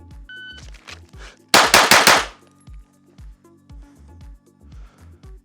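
A quick string of five loud gunshots from a compensated Glock pistol with an aftermarket trigger, fired in rapid succession, alone.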